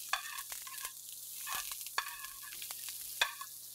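A beef filet bastes in sizzling butter with fresh rosemary, a steady close crackle broken by sharp spattering pops and stirring scrapes at irregular intervals.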